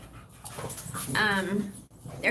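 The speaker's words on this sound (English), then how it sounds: "All we can hear is snarling and growling and them chewing each other up." Dogs snarl and growl in the background, a continuous rough, agitated rumble of scuffling animals mixed with whimpers, running steadily under a voice.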